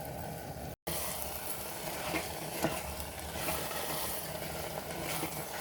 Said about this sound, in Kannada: ಮೀಡಿಯಮ್ ಉರಿ ಇಟ್ಕೊಂಡು ಈ ಮಸಾಲನ ಚೆನ್ನಾಗಿ ಫ್ರೈ ಮಾಡ್ಕೋಬೇಕು